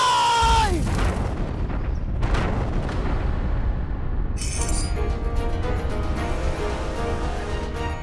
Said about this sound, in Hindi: ये तो तोप के चलने की आवाज है।